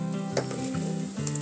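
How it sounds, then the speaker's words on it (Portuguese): Onion sizzling as it fries in a pan, a steady close crackle with a low hum beneath and a light clink, no speech. "Aqui tem a cebola, ela já tá bem passadinha aí"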